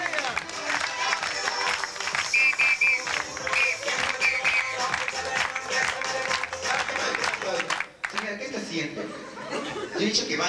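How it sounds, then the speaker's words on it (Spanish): Applause and laughter from guests at a birthday dance party, with clapping mixed with chuckles and cheers over music and lively chatter, dipping briefly before resuming at a similar level. "Y aplausos, venga."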